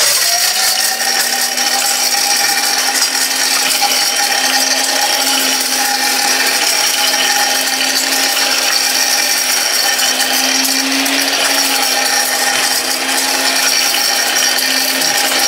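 A mixer grinder whirring steadily as it grinds a whole chicken with bones into mince: a loud, close, continuous motor whine with a grinding rasp, a slight dip in pitch midway and no talking.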